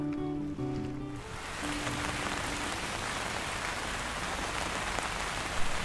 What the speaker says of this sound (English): Taking a nap below while the rain drums on the coach roof is just heaven.